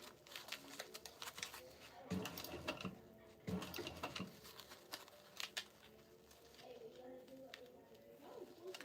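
Sewing machine stitching a zipper onto a tote in short bursts of rapid clatter, separated by quieter handling noises and pauses, fairly close.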